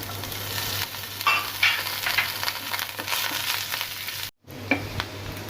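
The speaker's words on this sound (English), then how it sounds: "So now I'm putting chopped garlic and saute." Chopped garlic and green chilies sauté in a pan with a steady, soft sizzle, broken by occasional stirring scrapes and clinks, close by and continuous, with one abrupt brief dropout near the end.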